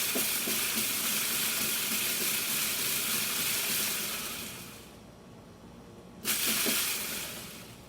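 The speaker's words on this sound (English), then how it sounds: "Water's boiling right here." Water boils in a pot with a steady, close hiss and bubbling. The sound dips briefly, then surges again near the end.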